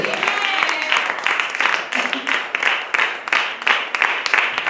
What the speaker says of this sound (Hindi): तो क्या आप ताली दे सकते हैं।